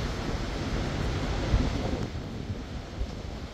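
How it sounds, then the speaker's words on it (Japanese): Strong wind buffets the microphone at the seaside on a cold autumn morning, a steady broadband roar with surf beneath it and gusts swelling around the middle, with no voices. "風も強いし"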